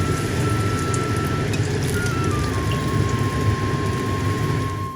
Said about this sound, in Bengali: চলো এবার ভেজে ফেলি।